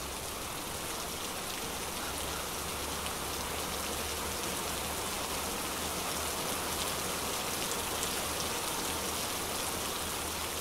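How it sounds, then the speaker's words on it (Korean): Steady, dense rain pours down outdoors in a mountain village, a constant broadband hiss of heavy drops with no voices over it. "빗방울은 하나둘 떨어지기 시작하더니 차차 굵어지며 무더기로 퍼부어 내린다."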